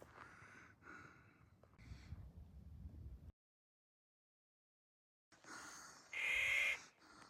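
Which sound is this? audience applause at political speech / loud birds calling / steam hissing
loud birds calling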